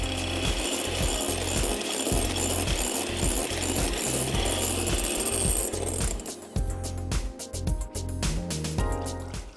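Egg whites are beaten for a cheese soufflé with a loud, rapid, rhythmic mechanical clatter that runs without pause and turns choppier and more irregular partway through.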